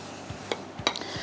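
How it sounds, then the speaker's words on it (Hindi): Marble cake batter being mixed in a bowl, a few soft utensil knocks and clinks against the bowl in quick, uneven succession. "फिर इसको अच्छी तरह हमने मिक्स करना है"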